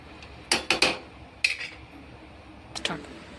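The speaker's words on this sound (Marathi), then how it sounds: "मी आता थोडं असं मिक्स करून घेते आहे" A spoon stirs mutton soup in a pressure cooker pot, making sharp metallic knocks and scrapes in three short bursts with quiet gaps between them, close and alone.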